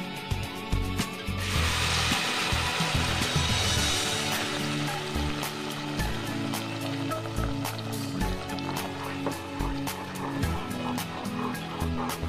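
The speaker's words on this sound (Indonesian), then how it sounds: "Kemudian ini bumbunya kita tumis." Ground spice paste of shrimp paste, garlic and shallots sizzles steadily in a hot pan, a continuous close frying hiss with small crackles and a few clinks of the utensil.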